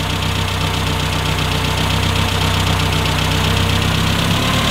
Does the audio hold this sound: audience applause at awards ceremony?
no